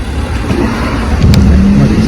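A car engine catches after the ignition key is turned, a loud, steady low rumble that swells slightly as it settles into a running idle, close by and with no speech.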